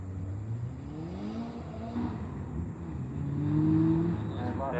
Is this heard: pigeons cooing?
no